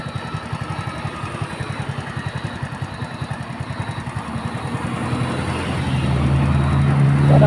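A jeep engine chugs with a steady, rapid throb on a road through a forest, growing louder and closer toward the end as the vehicle approaches.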